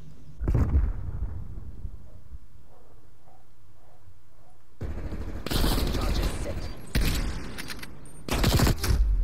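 SMG hip fire in Call of Duty: Cold War comes as loud, dense bursts of rapid gunshots separated by quieter gaps with faint game sounds, while a player talks over the action.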